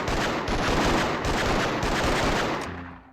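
Rapid, continuous gunfire aimed at targets in the shooting game Anti-Terror Force GIGN, loud and dense bursts filling nearly three seconds before cutting off abruptly.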